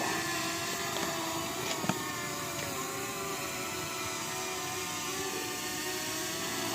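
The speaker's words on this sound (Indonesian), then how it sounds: "aktivitas kita menerbangkan drone Potensik Atom yang akhirnya nyampe guys" A steady, high-pitched whir of a Potensic Atom drone's small propellers hums continuously at moderate distance as it descends, fairly quiet and unbroken, with one faint click partway through.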